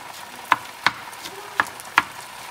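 Meat and finely cut courgettes cook in a pan, giving a soft continuous sizzle broken by four sharp utensil scrapes or clacks at uneven intervals.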